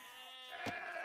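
Sheep bleat briefly in a match of Age of Empires with a Japanese civilisation, a single faint call set among ambient game sounds with no speech.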